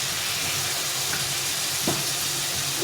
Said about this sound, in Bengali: এখানে একটু জল দিয়ে মশলাটা দিয়ে দেবো, দিয়ে ভালো করে কষিয়ে নেব